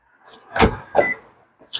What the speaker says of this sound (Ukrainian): я розблокую двері.